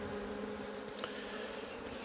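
Steady, faint buzzing of many honey bees, a continuous hum without pauses.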